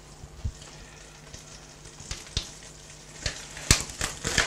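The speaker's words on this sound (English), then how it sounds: "Yeah, it's melting now. That's perfect. The butter is melting." Butter melts in a pan with a soft, steady sizzle and scattered sharp pops and crackles, heard close up with no one talking.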